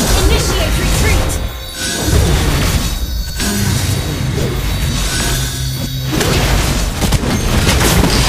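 A turret collapses in the Mobile Legends mobile battle game with a deep booming crash and shattering debris. Busy, continuous skill and combat effects fill the scene before and after.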